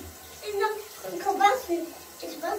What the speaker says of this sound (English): It's time for me to wash out the conditioner from the hair now